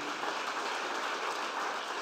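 A congregation at a church service claps in a sustained, even roar of applause, steady and moderately loud for the whole moment with no voices standing out.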